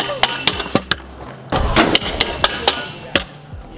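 Street scooter deck repeatedly hopping onto a rail in board-slide tricks, giving a string of sharp metallic clacks and thumps about every quarter second, loud and close, with some scraping in between.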